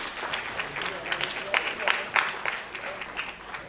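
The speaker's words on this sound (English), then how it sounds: "A big round of applause, please." A conference audience applauds a speaker with moderate, fairly distant clapping, a few sharper individual claps rising out of the steady patter.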